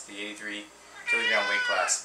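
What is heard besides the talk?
cat meowing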